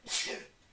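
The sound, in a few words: sneeze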